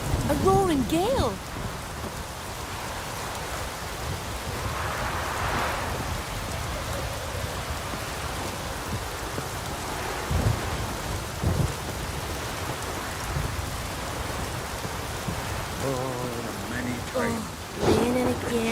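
Steady heavy rain with rolling thunder in The Witcher 3, a continuous downpour hiss broken by deep rumbles, with brief game voices or effects near the start and end.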